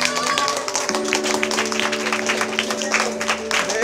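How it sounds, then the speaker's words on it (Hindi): A classroom of children clap their hands during a lesson on motion, a dense continuous patter of many hands with voices and steady tones mixed in underneath. "ताली टे बजाओ"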